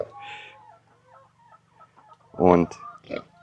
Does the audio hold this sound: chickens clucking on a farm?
yes